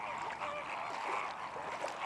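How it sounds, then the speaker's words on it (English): Flamingos at Point Calimere on the coast call with faint, distant honking and goose-like nasal cries, a soft flock chorus lasting about two seconds. "The flamingos are by far the most spectacular visitors to Point Calimere."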